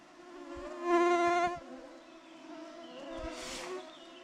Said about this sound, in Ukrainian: Чуєте шум? Хмари комарів в лісі